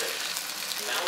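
Thin pancake batter sizzles in a hot frying pan, giving a steady, loud, hissing crackle with no pauses.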